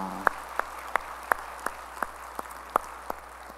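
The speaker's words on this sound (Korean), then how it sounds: "우리 찬양 박수 주님께 영광의 박수 올리겠습니다" A church congregation claps in unison during Sunday worship, sharp evenly spaced claps about every third of a second over a low steady hum, fairly near and moderately loud.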